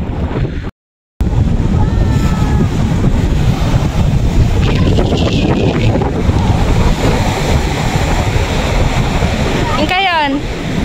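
Sea waves roll and wash onto the beach at La Paz, Laoag City, Ilocos, after a racing-boat event, a loud continuous surf heavily buffeted by wind on the microphone.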